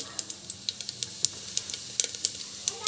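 Mustard seeds and cumin sizzle in hot oil, a steady close hiss broken by frequent sharp little pops and crackles.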